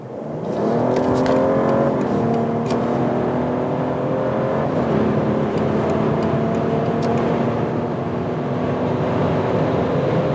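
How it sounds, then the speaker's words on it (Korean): A BMW 740i sDrive with M Sport package accelerates hard, its engine droning loudly and rising in pitch with a gear change partway through, heard steadily from inside the cabin without talking. "잠깐 극가속을 해봤는데요."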